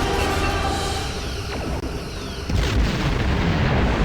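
Missile and laser explosions erupt during Star Trek Online space combat, a dense continuous rumble with heavier booms landing near the middle and toward the end.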